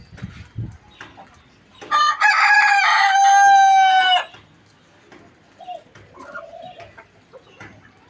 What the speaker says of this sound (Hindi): कमांडो के बाद ये अब अज़ान सुन रहे हैं हम इस मुर्गे की